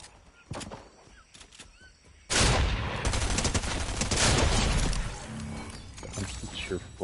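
Fortnite gunfire starts with a few scattered shots, then bursts into a loud, sustained rapid volley that fades into sporadic shots and clatter, with a player talking beneath it.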